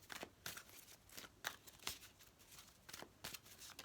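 A tarot deck is shuffled by hand in a quick series of soft, papery riffles and flicks, a dozen or so short bursts at an uneven rhythm, close and fairly quiet.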